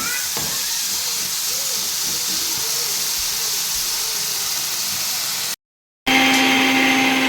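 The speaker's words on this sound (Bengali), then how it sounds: "আলুগুলো ভেজে নিচ্ছি" Potatoes fry in a pan with a steady, close hiss and sizzle. The sound cuts out briefly near the end, then resumes with a brighter tone.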